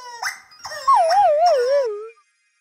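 A cartoon dog lets out a long, wavering howl that rises and bends through several swoops before cutting off, loud and close with no talking.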